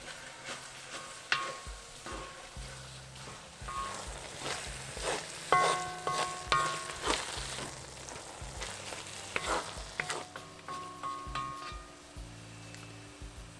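Baingan bharta sizzling and frying in a pan while coriander is stirred through it, a soft steady crackle broken by scraping spoon strokes and occasional louder clinks, fairly quiet and close.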